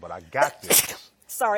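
A single sharp sneeze bursts out between bits of casual speech, loud and close, with a person talking right before and after it.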